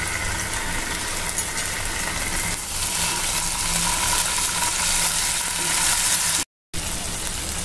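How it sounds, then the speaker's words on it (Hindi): Ginger garlic paste frying in hot oil in a home kitchen pan, a continuous loud sizzle with occasional stirring, steady throughout apart from a brief dropout near the end. "इसमें अदरक लहसुन का पेस्ट"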